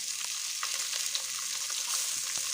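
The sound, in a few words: sliced onions sautéing in a pan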